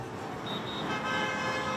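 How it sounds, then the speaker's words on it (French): Car horns toot over steady road traffic at rush hour in a big Chinese city, with sustained honks layered across a dense, continuous traffic roar. "Aux heures de pointe, comme dans toutes les grandes villes chinoises, c'est concert de klaxons."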